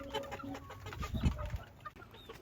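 Caged chickens cluck and murmur close by in a busy overlapping chorus, with soft rustling and a faint steady whine in the background.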